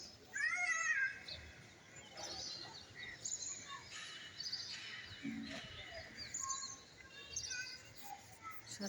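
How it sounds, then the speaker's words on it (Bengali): Many crows call outside a building on a foggy, windy day, their harsh, overlapping caws scattered through the clip at a moderate distance against a faint background hum. "দেখছেন কি পরিমাণে কাক।"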